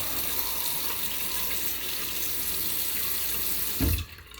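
Water runs steadily from a bathroom tap during a shave, a constant broadband hiss that holds evenly before cutting off abruptly near the end.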